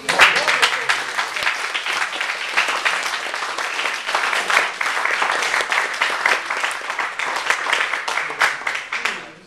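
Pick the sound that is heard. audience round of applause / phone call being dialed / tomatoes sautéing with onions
audience round of applause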